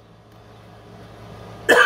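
A single sharp cough, caused by blood pressure medication, bursts out near the end after a quiet stretch of faint background noise.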